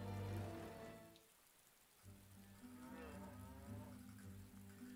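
Cattle low in the video game Die Siedler 6, with two long, deep moos, one at the start and a second after a short gap, over a soft rain-like hiss of game ambience.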